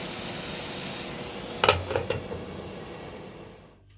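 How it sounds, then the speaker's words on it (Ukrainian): Scrambled eggs with vegetables fry in a pan with a steady, close sizzling hiss. A few metallic clinks of a utensil against the pan come midway, then the sizzle fades toward the end. No one speaks. "На вечерю готую яєчню із овочами."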